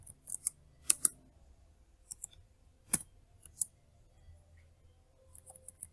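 Typing on a computer keyboard while entering a short word into a file: a handful of sharp clicks in a quick irregular burst, then scattered single keystrokes, close and fairly quiet with no talk.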